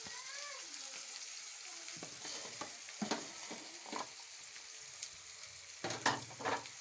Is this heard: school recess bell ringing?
no